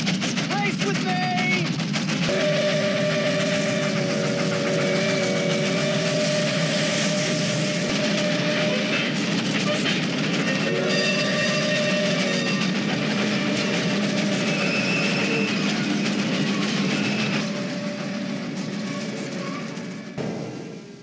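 A steam locomotive, California Western number 45, runs in a film scene: a loud, continuous rolling rumble with rhythmic clatter and sustained whistle-like tones, under spoken voices, fading at the very end.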